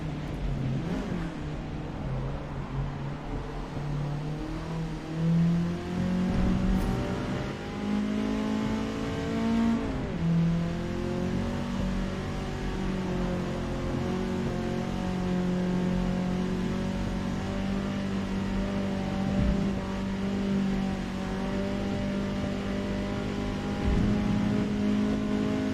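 A race car engine in Forza Motorsport at Watkins Glen holds a steady, loud drone near its limit, pitch swelling and dipping slightly through corners over a long continuous run with no talk.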